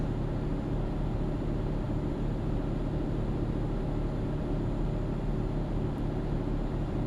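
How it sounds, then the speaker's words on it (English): Truck engine in Euro Truck Simulator 2 labouring uphill, a steady, loud low drone that runs unbroken for the whole stretch with no talk over it. "Going uphill, you can hear the engine"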